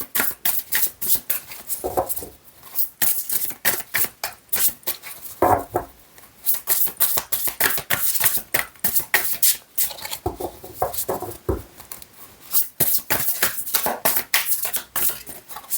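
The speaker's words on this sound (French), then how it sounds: "je vais prendre une dernière carte avec ce jeu" Tarot cards are shuffled, cut and drawn by hand, with bursts of crisp riffling, slapping and sliding cards close by, coming in quick uneven runs broken by short pauses.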